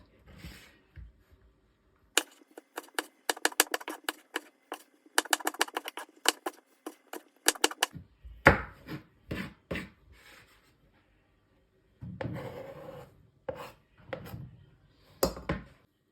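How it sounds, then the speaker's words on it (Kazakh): A knife chops bell peppers on a cutting board, with quick runs of close, crisp taps followed by slower, scattered heavier chops. "Болгарскийлерді алып тураймыз."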